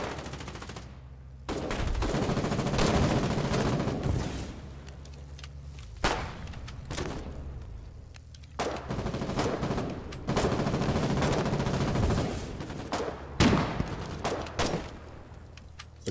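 Machine gun fire in the war game Foxhole, repeated bursts of rapid gunfire that start and stop in clusters, with sharp louder cracks cutting through a steady rumble of battle noise.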